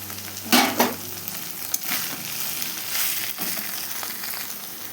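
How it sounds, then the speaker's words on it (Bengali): Potatoes and cauliflower sautéing with salt and spices in a pan, a continuous close sizzle broken by a few louder scraping stirs early on and scattered clinks of the spatula. "কষানো হয়ে গেল এবার ফুলকপিটা দিয়ে আবার কষিয়ে নেব"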